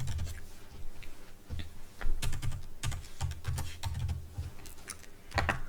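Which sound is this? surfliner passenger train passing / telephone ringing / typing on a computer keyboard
typing on a computer keyboard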